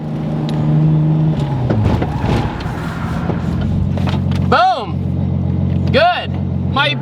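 Nissan 240SX with a 600 hp engine revving during a handbrake lock-up test, a steady loud engine drone with two sharp rising-and-falling rev sweeps near the end, while people talk over it.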